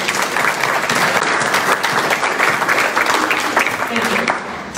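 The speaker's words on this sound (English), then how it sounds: "If we could give all of them a round of applause." Steady applause from an audience at a council candidate forum, dense overlapping claps filling the room at a consistent level before thinning toward the end, with a few voices faintly mixed in.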